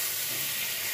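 Black cumin seeds, dried chillies and bay leaves sizzle in hot oil for a vegetable curry, giving a steady, close, even hiss for a brief moment.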